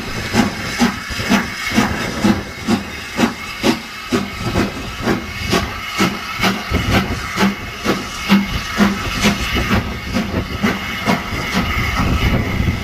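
A Great Western Railway steam locomotive stands waiting, hissing loudly and close with steady steam release, punctuated by rapid rhythmic chuffing pulses throughout.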